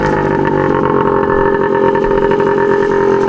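A 1981 Suzuki DS100 trail motorcycle idles close by, its small single-cylinder engine putting out a steady, even, loud putter that runs alone without any revving.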